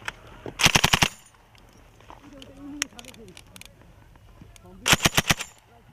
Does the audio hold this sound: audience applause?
no